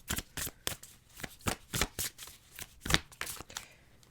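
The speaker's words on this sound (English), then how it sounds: "Let us pull a couple more cards." Tarot cards being shuffled by hand, a run of crisp riffling bursts at an uneven rhythm, close and fairly quiet with no talk over it.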